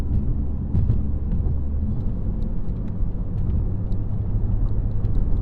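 A BMW F80 M3 four-door sports sedan drives along a road, heard from inside as a steady low engine and road rumble, moderately loud, with no talking.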